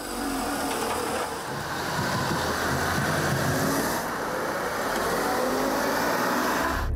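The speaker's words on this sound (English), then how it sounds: "Ines says that when the Twingo's fully occupied and you're accelerating, you can really tell." A fully loaded Renault Twingo accelerates, its engine a steady droning hum with road and cabin rumble, holding at an even level from inside the car with no talking.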